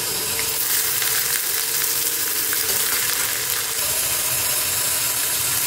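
Steady, close sizzling of chopped small onions frying in hot oil for tomato chutney, a continuous crackling hiss with occasional faint pops and stirring.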